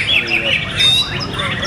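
A white-rumped shama (murai batu) singing in a training setting, with bright, high whistled phrases rising and falling in quick succession over a voice talking underneath.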